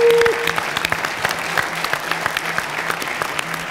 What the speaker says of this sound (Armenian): Եկեք ծափարենք նրանց